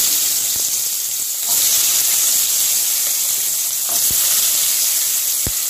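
Onions sautéing in oil for a mixed vegetable chutney, a close, steady hiss of frying with a few sharp utensil knocks against the pan, no voices.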